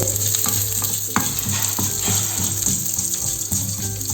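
Chilli masala paste frying in coconut oil on a low flame, with a steady close sizzle and occasional stirring scrapes throughout, no voices.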